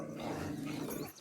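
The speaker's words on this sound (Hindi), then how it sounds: "कुत्ते भी इतने हैं इधर, सब भौंक रहे" Several village dogs bark and growl together in a continuous, fairly loud rumbling snarl, close by and sustained across the brief moment.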